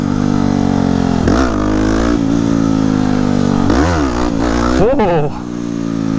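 A 2009 Yamaha WR250X supermoto motorcycle accelerates hard in second gear, its loud engine climbing in pitch through repeated revving surges close to the rider, with a brief shout over the engine.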